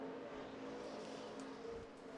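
Max Pappas's number 9 Geico Toyota Tundra race truck running on the Atlanta track during practice, a steady engine roar held at a constant, fairly loud level with no voices.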